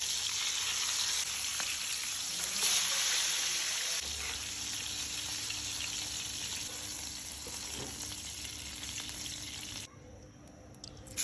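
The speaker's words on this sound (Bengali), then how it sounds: "তারপরে মাছগুলোকে ভালোভাবে ভেজে নিব।" Pieces of rohu fish, rubbed with salt, turmeric and chilli powder, fry in oil with a low, continuous sizzle that fades quieter toward the end.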